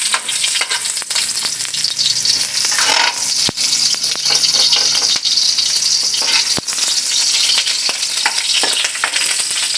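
Onions sautéing in a pan for a Visayan crab soup: a loud, steady, close sizzle of hot oil runs throughout, with occasional sharp clicks and stirring scrapes.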